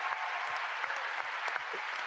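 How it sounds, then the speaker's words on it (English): Audience applause at a Star Wars Celebration Clone Wars panel honoring actor Ian Abercrombie, a dense steady wash of clapping from a large crowd filling the hall, with a few louder individual claps standing out. "I would love a round of applause for Ian Abercrombie, our wonderful, wonderful emperor"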